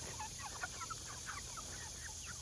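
Meat chickens cluck and chatter softly in a group, a scatter of short, faint calls over a steady background hum, with no talk.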